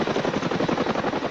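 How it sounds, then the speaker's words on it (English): Boeing CH-47 Chinook heavy-lift Army helicopter, a steady loud rotor thump with rapid pulsing chop and broad engine roar, heard alone and close. "the Army's CH-47 Chinook helicopter is definitely a workhorse"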